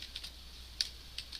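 Sparse keystrokes on a computer keyboard while a web address is typed into a browser: a handful of faint, separate clicks over a low steady room hum, with no talking.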